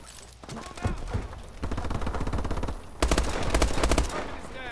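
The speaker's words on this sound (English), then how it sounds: "Covering fire." Rapid automatic gunfire in a hardcore clan-match shooter game, bursts of sharp shots in quick succession, loud and close, with teammates talking over the shooting.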